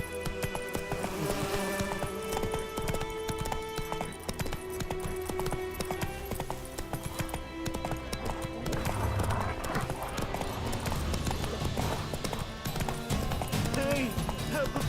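Horse hooves clip-clop steadily while riding through the video game The Witcher 3, with occasional neighs and game ambience, close and continuous, and brief voices over the hoofbeats.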